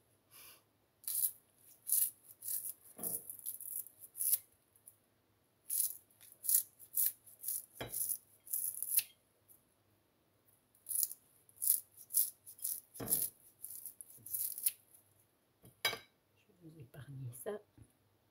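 Quick crisp snipping of scissors through herb leaves, in short bursts with brief pauses, close by, with a voice speaking over parts of it.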